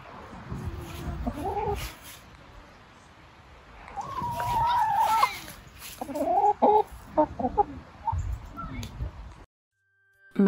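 Chickens cluck and squawk in a backyard chicken run, several close, irregular bursts of clucking with brief pauses between calls.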